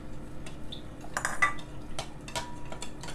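Milk and sugar being mixed in a bowl, with utensil clinks and light scraping against the dish in short irregular bursts, close by and moderately quiet, no talking.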